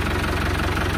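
A tractor engine idling close by, with a steady low rumble and a rapid, even knocking pulse throughout.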